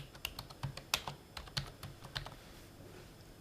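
Rapid, uneven clicks of keys being pressed on a computer keyboard while entering text into a spreadsheet cell, close and fairly crisp, a short burst of typing that trails off into quiet.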